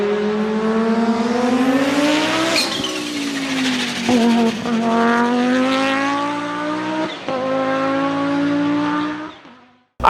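A big-block five-cylinder engine built in the Audi mould runs loud and close, its throaty rising and falling revs surging through several blips before cutting off abruptly at the end.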